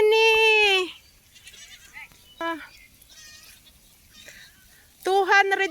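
Goats on a farm in Songsoy, part of a herd of around two hundred, let out loud, wavering bleats up close: one long call at the start, a short one midway and another at the end, with quieter sounds between.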